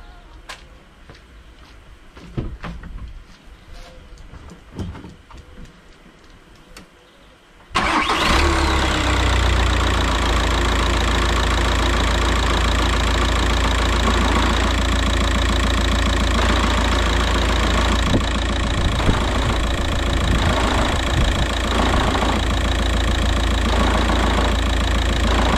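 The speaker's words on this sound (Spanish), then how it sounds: "Yo me voy a meter dentro del coche, lo voy a arrancar, ¿vale? Y después voy a pisar el embrague, lo voy a soltar." A 2008 SEAT Leon, an auction-bought accident car, cranks briefly and fires into a loud, steady idle that runs on with rough, uneven mechanical noise while the clutch is pressed and released; faint knocks and clatter precede the start.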